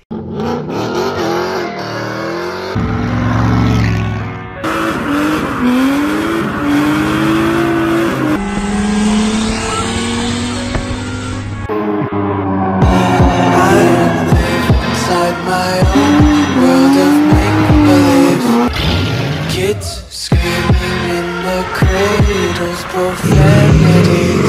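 A BMW E36 swapped with a Ford 302 roller V8 runs steadily close by, a loud lumpy idle with occasional revs rising and falling throughout.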